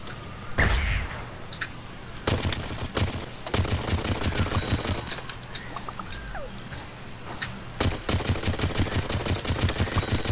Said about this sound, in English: Even this machine gun cactus is too overpowered.